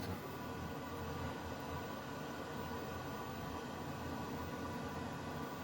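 Steady, loud rushing roar of an Ogniwo Eko Plus 16 kW boiler burner fan blowing at full power, a constant broadband whoosh with no pauses or voices.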